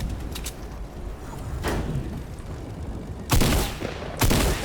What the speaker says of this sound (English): Why are you using the shotgun, Chris?